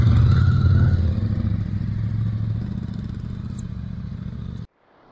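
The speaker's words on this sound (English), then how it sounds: "So there's the motorcycle down there." A motorcycle engine drones steadily at a distance in the Alps at Col du Parpaillon, slowly fading, then cuts off abruptly near the end.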